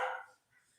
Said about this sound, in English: And now there's barks and growls and all kinds of things as they go battle to see who gets to eat